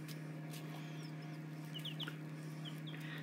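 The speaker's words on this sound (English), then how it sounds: "these new additions, these little baby chickens" Baby Easter Egger chicks peep in a brooder, with several short, thin, high chirps scattered over a steady low hum.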